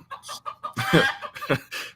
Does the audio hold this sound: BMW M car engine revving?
no